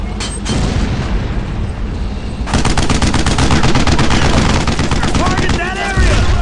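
Rapid gunfire and booming blasts from a World War II battle in Brothers in Arms: Road to Hill 30, dense machine-gun bursts and heavy shots rattling loud and close throughout.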